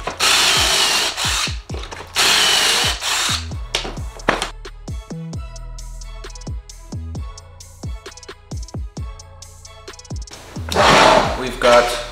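A power drill drives a Kreg pocket hole screw into wood for a nativity stable, with loud bursts of whirring and ratcheting, clicks and knocks between them, and a final strong burst near the end.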